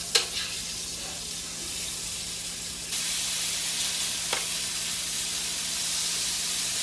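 Short ribs searing in a smoking-hot big pot, a steady loud sizzle and hiss throughout that swells as more meat goes in, with a couple of sharp spits, no talking.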